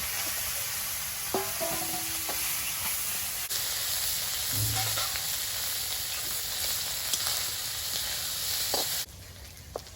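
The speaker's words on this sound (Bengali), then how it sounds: "কড়াইতে তেল দিয়ে দেব এবার শুটকি মাছটা ভেজে নেব" Oil sizzles and crackles steadily in a pan as dried fish fries, close and continuous, with a few clinks, the hiss dropping near the end.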